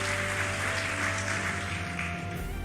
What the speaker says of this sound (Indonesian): Tepuk tangan buat Tuhan Yesus kita.